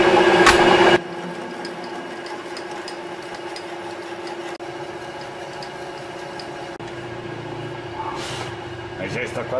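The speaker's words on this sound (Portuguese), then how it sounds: "E agora, para finalizar, a terceira broca já do segundo lado." A drill bit bores a deep hole through the center of a wooden block, a steady whirring grind close up after a brief louder burst, with speech over it.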